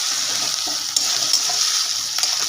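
Tomato frying in onion paste in a hot pan, a loud, continuous bright sizzle with faint stirring taps throughout and no voices.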